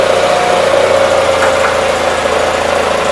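A 1976 Gravely 816 tractor engine runs at a steady idle, a loud, close, uneven mechanical drone with a faint knocking pulse, alone and unchanging for a few seconds.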